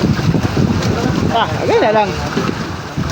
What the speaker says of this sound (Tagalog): 50 yata ang bugso ng hangin ngayon